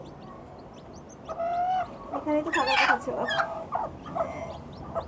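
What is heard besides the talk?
newly hatched quail chicks with hen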